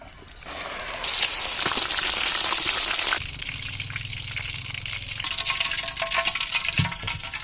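Ripe sabri bananas fry in oil in a pan, giving a loud, continuous hiss and bubbling sizzle that runs throughout, shifting in intensity as the pieces settle.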